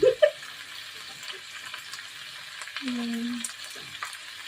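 Onions frying in a pan for a shrimp and squid seafood stir fry, a steady soft sizzle throughout, with a brief clatter at the start and a short tonal scrape near the end.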